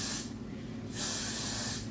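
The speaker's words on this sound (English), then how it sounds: "I'm gonna take some Gots to Be freeze spray, and I'm just gonna spray" Got2b Freeze hair spray hisses onto hair in two close bursts: a short one, a pause, then a longer, louder spray lasting about a second.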